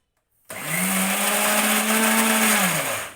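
A kitchen mixer grinder switches on after a brief silence and whirs loudly and steadily as it grinds chutney, its motor pitch dipping slightly under load before easing off at the end.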